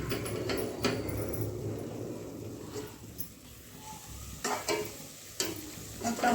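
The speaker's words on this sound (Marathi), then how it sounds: "चांगला तड तड तड तड तड करेपर्यंत भाजायचा, म्हणजे चांगला भाजला गेला मसाला" Masala spices being roasted in a pan for a home-style chicken rassa, with a steady close sizzle and crackle and occasional scraping stirs of a spoon across the pan.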